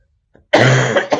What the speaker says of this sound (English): Coughing up a lung here.